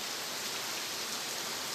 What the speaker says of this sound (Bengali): মুষলধারে বৃষ্টি হচ্ছে এখন